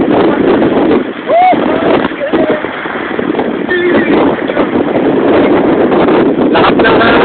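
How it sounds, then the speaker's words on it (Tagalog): Strong wind roars against the microphone in loud, constant buffeting gusts at a Taal Volcano viewpoint in San Nicolas, Batangas, with brief voices and shouts heard underneath. "Lahat ng hangin."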